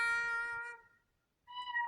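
The Kitten notification tone on a Samsung phone plays two short, bright cat meows separated by a brief silence, clean and close with no other sounds.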